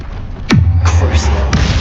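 An Expelliarmus spell cast in Hogwarts Legacy: a sharp, loud magical whoosh dropping into a deep booming thud, followed by shimmering swells and a second brief crack, close and punchy.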